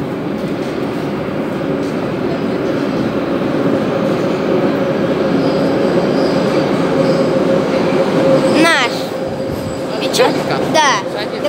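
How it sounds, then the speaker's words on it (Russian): A Moscow metro train rumbles into a station and slows with squealing wheels and rattling carriages, voices murmuring faintly underneath. "Едет поезд."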